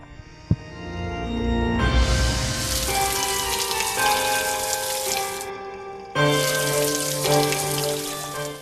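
Running water pours from a water source in the hidden-object game Haunted Legends 3: The Undertaker, a loud hissing gush that starts after a short click, briefly cuts out and resumes, layered over a steady game music bed.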